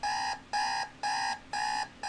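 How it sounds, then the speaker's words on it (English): An alarm clock buzzes in a video game, four loud regular beeping pulses about half a second apart, each a steady tone followed by a brief gap, heard alone. "I can hear the buzzing of my alarm going off."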